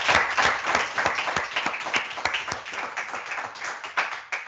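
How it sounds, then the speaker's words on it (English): A lecture audience applauds with dense, steady clapping that rises fast and fades slightly over a few seconds, close and lively, with no talking over it. "If I request one more round of applause for her, would it be too much?"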